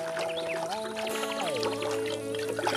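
Water pours from a can onto flowers in a cartoon garden scene, a steady trickle layered under playful melodic music with sliding tones.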